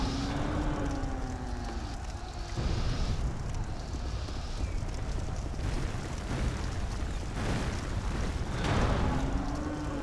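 Deep, sustained rumbling explosion from the video game Dark Souls II, dense and loud for the whole stretch with surging bursts, no talking over it.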